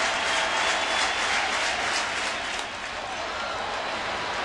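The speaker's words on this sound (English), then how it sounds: "Crowd going bananas." Big baseball crowd at a Cubs versus Cardinals game roaring steadily, a dense wash of cheering that eases slightly toward the end, no voices on top.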